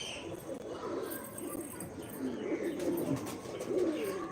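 Male and female pigeons of one breed coo softly at close range, low rolling calls repeating over a faint background murmur.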